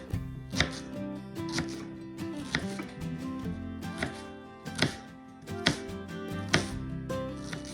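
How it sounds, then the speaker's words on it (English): A kitchen knife dices two medium onions into small pieces on a cutting board, sharp close taps in quick irregular bursts, each chop landing crisply with brief pauses and no talking. "we're dicing it up into very small pieces"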